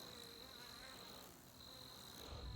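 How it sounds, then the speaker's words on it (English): A big wasp hovers around a beehive, giving a faint, steady insect buzz that drones on without a break against a quiet outdoor background. "Dang big wasp thing is coming around, trying to do its thing, hassle my bees"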